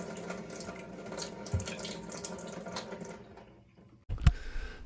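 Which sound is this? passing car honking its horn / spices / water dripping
water dripping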